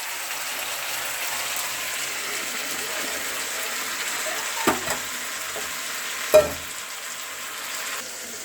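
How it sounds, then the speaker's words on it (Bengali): Meat with potatoes and tomatoes stir-fries in a wok, a steady crackling sizzle with a few sharp scraping knocks of the spatula against the pan. "মাংসটা আমি দিয়ে দিয়েছি, এবার ভালো করে কষিয়ে নেব"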